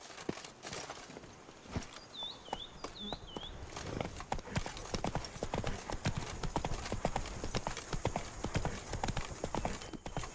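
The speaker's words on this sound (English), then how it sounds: "I'm telling you to gallop and you're not galloping." Horse hooves clip-clopping in a steady walking rhythm in The Witcher 3 video game, with a few high whistle-like chirps partway through and no speech over it.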